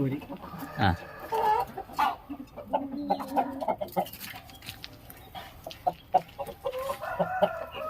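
Chickens of several local breeds, including fighting-type birds, cluck and squawk repeatedly at close range in irregular bursts, with someone talking intermittently among them.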